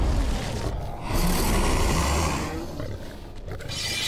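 Bear roaring in The Witcher 3 game, a loud, sustained growling roar that swells and fades over several seconds with a rasping texture, no talking.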